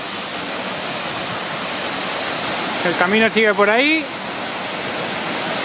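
Seljalandsfoss waterfall in Iceland roars as a steady, dense wash of falling water close by, with someone speaking briefly over it midway.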